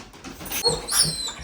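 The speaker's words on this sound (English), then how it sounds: "letting the dogs chill out" Excited dogs named Willow and June Bug whimpering and letting out high yips, close by, in short overlapping bursts with no talk.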